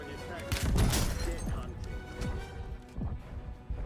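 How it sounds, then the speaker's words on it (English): Gunfire in Warzone 2.0 on Rebirth Island, a few sharp shots and a burst of impacts early on, then scattered cracks, fairly close, heard under a player talking. "Why is that guy shooting at me?"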